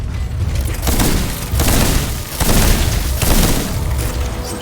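A gun firing in the SteelRising video game: loud, close, repeated booming blasts, about four to five heavy bursts in quick succession, each with a broad rumbling tail.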